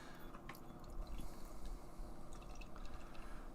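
A triple hazy IPA brewed with lactose pours from a can into a glass, giving a steady, close liquid rush with soft fizzing and drips throughout, no talk.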